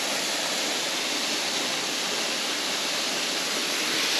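Steady broadband rush of a waterfall on a slow summer walk, continuous and even throughout with no voices, a dense close wash of falling water.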